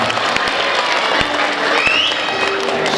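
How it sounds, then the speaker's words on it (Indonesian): A crowd applauds at a Balinese temple gathering, dense continuous clapping close by with some cheering mixed in. "Tepuk tangan untuk kebersamaan kita bersama"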